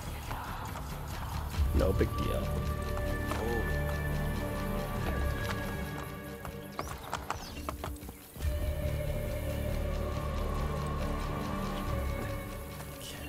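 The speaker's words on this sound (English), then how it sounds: "the gigantic white horse being ridden by a guy in white cloaks" Hooves of a large white horse clip-clopping at a slow pace in Assassin's Creed Brotherhood, with a whinny and game ambience underneath a voice speaking.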